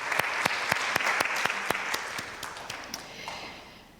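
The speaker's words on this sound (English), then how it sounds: "So let's give another round of applause to our musicians." An audience at a spiritual talk applauds its musicians, a round of clapping that starts close and dense, then thins out and fades away.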